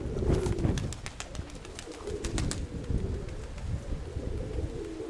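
A domestic pigeon coos in a low, throaty, repeated murmur, close by, with light pattering clicks scattered over it.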